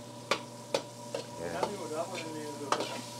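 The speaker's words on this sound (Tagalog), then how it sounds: "Tunawin lang po natin ng konti yung butter." Butter melting in a pot for Filipino sopas, a soft steady sizzle broken by several sharp spoon clinks and stirring scrapes against the pot, close and alone.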